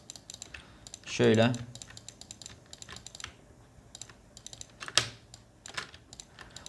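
Keys clatter on a computer keyboard as someone types Photoshop 2021 shortcuts, scattered clicks through the clip with a louder burst near the start, while someone speaks briefly in Turkish.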